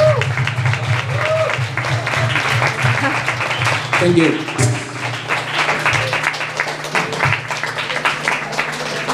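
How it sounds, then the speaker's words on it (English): Audience applause after a live cover of a song, a steady patter of clapping that runs under someone speaking and some background music. "A big applause"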